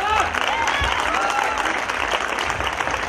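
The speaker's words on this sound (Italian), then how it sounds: "Grazie, grazie Antimo, grazie a tutti voi per questo applauso fortissimo che mi avete fatto." An audience at an evening arts event applauds loudly and continuously as a presenter takes the stage, with a voice speaking over the sustained clapping.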